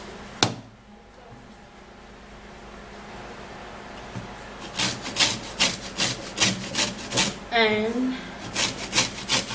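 Scraping with a rasping rhythm, likely a lemon being zested against a grater, heard as about ten short, evenly paced strokes close to the mic after a quieter start with a single knock; one spoken word comes near the beginning.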